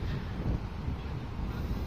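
Steady wind buffeting the microphone in Al Bidda Park, Doha, Qatar, a continuous low rumble with no other distinct sounds.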